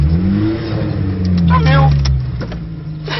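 A car pulls away with its engine revving, a low rising drone carried through the clip beneath loud, animated shouting from a man nearby.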